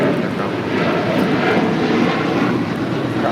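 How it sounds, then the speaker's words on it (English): A United Boeing 737-900ER takes off from runway 25 left at LAX, its jet engines a loud, steady, broadband roar filling the whole moment. "This is United 2237 taking off to Houston Intercontinental on a 737-900ER"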